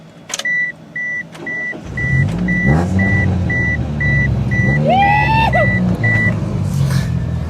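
A 1999 Eclipse car engine cranks and fires up amid a steady series of chime beeps, then settles into a rumbling idle with a few revs and a rising whine, heard close in the cabin.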